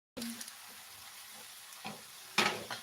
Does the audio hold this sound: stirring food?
yes